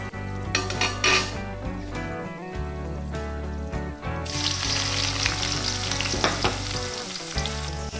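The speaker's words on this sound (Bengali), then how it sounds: "পেঁয়াজগুলো মোটামুটি একটু হালকাভাবেই ভেজে নেবো" Onions fry in a pan with cumin and chilies, a loud steady sizzle with stirring clatter and occasional metal scrapes of a spoon against the pan.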